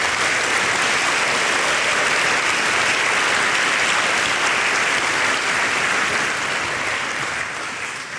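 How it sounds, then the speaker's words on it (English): Dense, sustained applause from a large conference audience at the Falling Walls Conference 2019, steady and full for several seconds before easing slightly at the end. "So a special applause to the people who do the audio."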